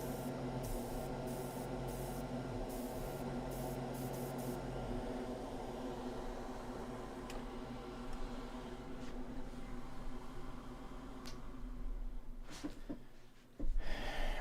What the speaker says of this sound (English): we got the compressor on. We got the spray booth on.